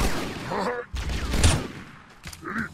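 Rifle gunfire in the first-person shooter Halo: Combat Evolved, with loud bursts of shots and in-game effects spread across the moment, mixed with game voices and sounds.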